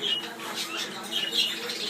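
Budgerigars in a large aviary flight chatter and squawk continuously, a dense, fairly close flock of overlapping chirps and calls with no clear pauses.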